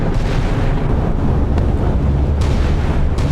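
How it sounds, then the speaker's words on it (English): A destroyer's ammunition magazine blowing up in a Sea Power naval battle, a Soviet Sovremenny destroyer hit by gunfire from a US Ticonderoga cruiser, giving a continuous loud, deep rumbling roar with wind-like noise throughout. "Sovremenny magazine's gone up"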